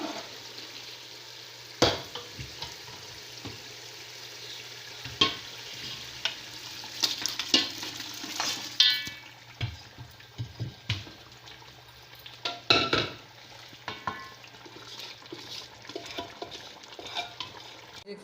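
Mutton pieces hit hot oil and well-fried masala in a pan, sizzling steadily while a spoon scrapes and stirs in irregular bursts, with occasional clinks of utensil against the pot and no talking.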